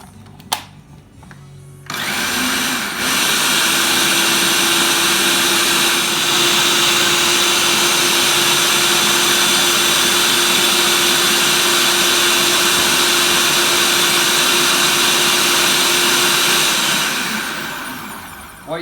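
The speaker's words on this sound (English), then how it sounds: "then we're going to blend that and just add the stock as we go" A food processor blends roasted butternut squash soup with butter and stock, a loud, steady motor whir kicking in after a brief pause and running unbroken for about fifteen seconds before winding down.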